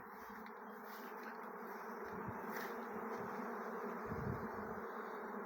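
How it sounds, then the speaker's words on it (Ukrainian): A swarm of honeybees pouring out of the hive makes a dense, continuous buzzing hum, close and steady throughout, with no voices. "Рій вийшов."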